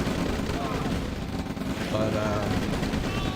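Rockets and gunfire strike infantry in a strategy video game, a dense, continuous barrage of rapid shots and blasts rolling steadily, with a brief voice over the top.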